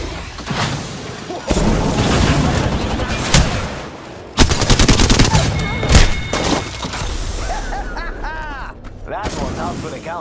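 Apex Legends battle sounds, loud and close: bursts of automatic gunfire, sharp single shots and heavy booms come in dense, overlapping volleys, with brief electronic effects and voice callouts mixed in.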